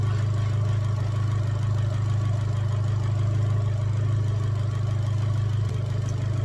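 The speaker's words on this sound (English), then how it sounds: "Just going to get the engine run up to temperature off camera now" An Abarth 695 XSR engine idles steadily while warming up, a continuous close, even hum with a low throb and no revving or speech.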